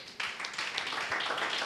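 Church congregation applauding, a brief burst of steady clapping from many hands at moderate distance, filling the room evenly.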